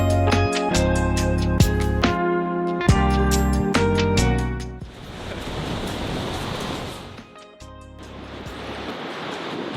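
Sea water rushes in over the shore as a loud, continuous wash of surf, mixed with gusty wind buffeting the microphone.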